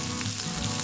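Sliced onions sizzle in hot sesame oil with mustard seeds and urad dal, a dense, steady crackling fry heard close up with no voices.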